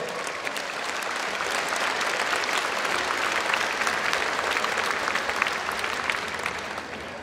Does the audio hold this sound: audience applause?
yes